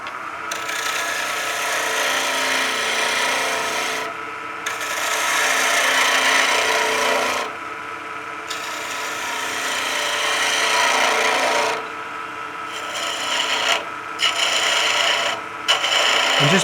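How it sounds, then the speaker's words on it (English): A spindle gouge cuts wood on a lathe while turning a pizza cutter handle. The steady, loud rasping scrape is broken by brief pauses as the tool lifts off and bites back into the spinning workpiece. "So I'm going to bring my tool rest over and start using that spindle gouge again."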